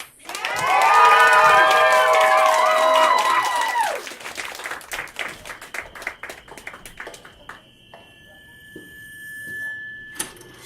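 Crowd at a drag show breaks into loud applause and cheering with whoops, sustained for several seconds, then dies down into scattered claps as music and a singing voice take over.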